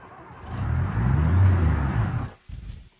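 A truck engine in the BeamNG driving game, a loud low rumble swelling as it revs for about two seconds, cutting off and briefly returning.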